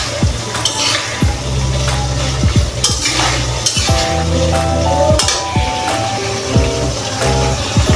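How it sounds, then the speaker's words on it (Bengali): Garlic frying in oil in a pan for hilsa fish pickle, a continuous close sizzle with repeated scraping and clinking strokes of a spoon stirring against the pan. "আমি এখানে একটু ভালোভাবে নেড়ে চেড়ে নিব যাতে রসুন ভাজাটাও হয়ে যায়"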